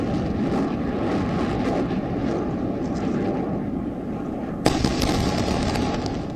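Explosions and rocket fire from the Israel-Gaza war form a continuous loud roar, like aircraft or a heavy barrage, with a sharp bang and crackle near the end.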